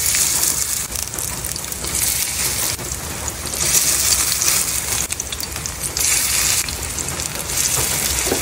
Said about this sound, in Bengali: বাহিরে কিন্তু খুব বৃষ্টি শুরু হয়ে গেছে, একদম কালো মেঘ হয়ে বৃষ্টি শুরু হয়ে গেল।